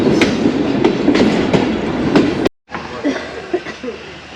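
The 14DN Awam Express passenger train on the Peshawar to Lahore line passes a station with loud, rhythmic clickety-clack wheel beats, then the sound cuts briefly and returns as quieter rumbling rail noise.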